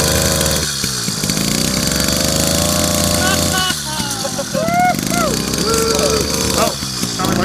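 A 49cc motorized bike engine buzzes loudly and revs up and down in rising and falling whines, with a person talking over it.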